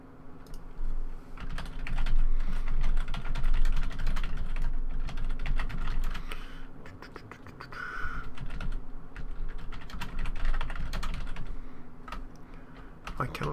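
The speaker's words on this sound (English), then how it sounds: "I really struggle with typing the word Auctioneer." Rapid, close typing on a computer keyboard clatters in dense bursts with short pauses, set against a steady background hum from a Hearthstone game session, without speech.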